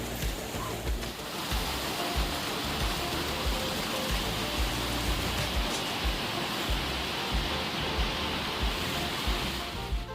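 Water rushes steadily around a hiker wading across a knee-deep stream on the Appalachian Trail, a constant close wash of flowing water with soft splashing footsteps.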